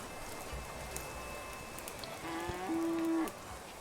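Steady, even rain hisses across the whole stretch in the farming game Clanfolk, with a low cow-like moo rising near the end.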